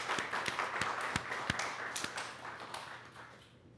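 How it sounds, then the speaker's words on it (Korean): Congregation applause in a church after a Sunday worship service, a dense run of clapping with sharper individual claps standing out, steady and fairly near before thinning and fading toward the end. "힘찬 박수로 감사를 전하겠습니다."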